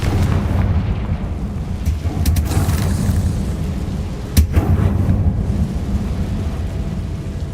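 Confringo fire spell in a Harry Potter video game, a heavy rumbling blast with a sharp crack partway through over continuous low roar, loud and booming.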